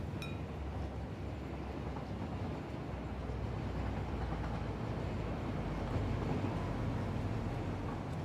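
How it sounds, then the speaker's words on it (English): A train rolls past in the video game Satisfactory as a continuous, fairly faint low rumble that holds steady throughout. "There goes train B."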